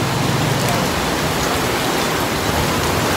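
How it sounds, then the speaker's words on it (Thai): Heavy rain falling steadily in Lat Krabang, a dense, even hiss of water that fills the whole stretch with no voices over it. "ฝนตก"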